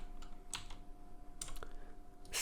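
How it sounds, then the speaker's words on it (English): Typing numbers on a computer keyboard, a handful of crisp, close key clicks in short irregular bursts over a quiet room hum. "Let's go in here and type in."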